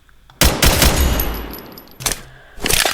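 Pistol shots fire in a Minecraft-style survival game, a quick burst of several loud cracks followed by another shot about a second and a half later, then a final sharp report, with no talking.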